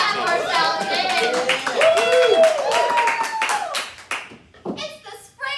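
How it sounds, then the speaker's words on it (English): Performers in a school variety show sketch clap together in a quick burst of crisp handclaps beneath excited voices, trailing into scattered claps with speech at the end. "Let's clap ourselves in."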